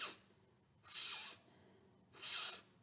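A voice imitates a dog sniffing, giving three short breathy sniffs at a steady rhythm, close and clear with quiet gaps between them.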